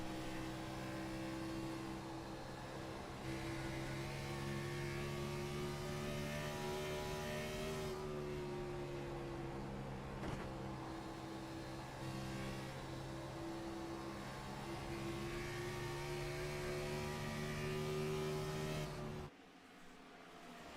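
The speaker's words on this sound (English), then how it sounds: "We'll turn it up and listen to the sound of these engines." Race car engines during an ANZCAR Cup race at Dover, a sustained loud drone of several engines with steady pitch shifts as they work through the laps, running continuously without talk before dropping off abruptly near the end.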